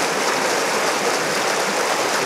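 Steady broadband rushing of Halt's Creek flowing beneath a bridge made of coal breaker screens near the Blakely Mine falls, continuous and fairly loud with no voices.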